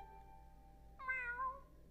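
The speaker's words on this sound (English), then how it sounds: "Meow." A short, clear meow from Gary the snail in the SpongeBob Battle for Bikini Bottom: Rehydrated video game, a single mid-clip call rising out of a quiet backdrop with a steady low hum.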